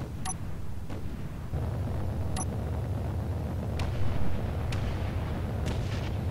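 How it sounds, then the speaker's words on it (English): Distant gunfire in a space-elevator video game, a few sharp cracks scattered over a steady low rumble of engine and ambient noise, with no talk. "There's some shooting down there."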